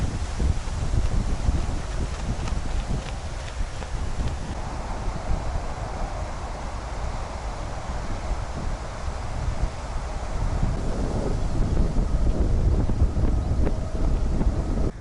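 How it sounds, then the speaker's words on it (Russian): Cold wind blowing steadily outdoors near the Omsk marshes under an overcast sky, a continuous broadband rush with mic buffeting that swells toward the end, no voices. "там холодно, ветер такой дует"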